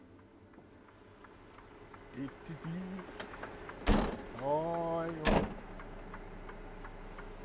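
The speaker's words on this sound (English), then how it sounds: "doors playing up" Vehicle doors acting up: a mechanical whirr and a couple of sharp clunks and thuds over quiet background, with a brief voice at the start.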